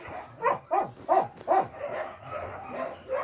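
A close dog lets out four rhythmic whiny yelps, evenly spaced, followed by softer continuous whimpering.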